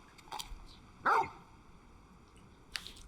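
Torgal, the large dog companion in the video game Final Fantasy 16, gives a single short bark partway through, with a couple of faint yips before and after, heard alone against a quiet game background.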